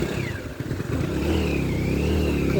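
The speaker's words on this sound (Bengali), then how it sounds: "সে বৃষ্টিতে ভিজে বিরক্ত হয়ে বাইক চালাচ্ছে জিদ করে" A motorcycle ridden through rain in rural Bangladesh, its engine droning steadily and close, rising slightly as it holds speed, with no talk over it.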